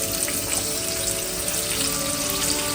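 Onions sizzle and fry steadily in hot oil in a pan while chicken biryani is cooked, a constant close hiss with faint bubbling and no voices.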